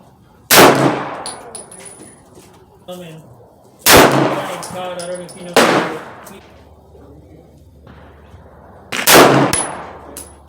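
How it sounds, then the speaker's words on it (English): Three sharp pistol shots from a Daewoo DP51 fired at a target 25 yards away, spaced a few seconds apart with ringing echoes and metallic pings of the steel target between them. "I'm gonna go for 3 shots at 25 yards."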